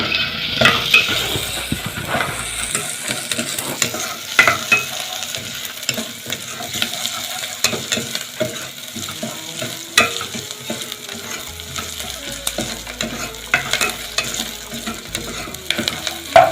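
Chopped onion with peas, tomato, carrot, potato and zucchini frying in a pan, with continuous sizzling broken by frequent scraping and clinking stirs of a utensil against the pan.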